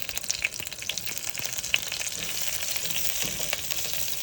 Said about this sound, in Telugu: ఇలా పచ్చిమిర్చి ఫ్రై అవుతుండగానే